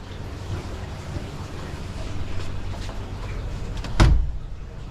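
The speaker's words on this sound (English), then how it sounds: "The wind's blowing the door open." Wind blows a door open, and one sharp knock or thud stands out near the end against a low, windy background rumble.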